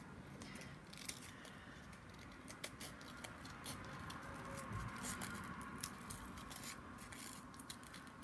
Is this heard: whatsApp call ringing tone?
no